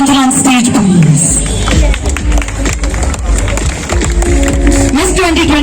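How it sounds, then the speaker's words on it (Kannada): Crowd at the HSR Layout street festival stage show claps and cheers in sustained applause for Miss India 2022, a dense, loud wash of clapping and voices running throughout. "ಚಪ್ಪಾಳೆ ಡಬಲ್ ಆಗಬಹುದು ಪ್ಲೀಸ್"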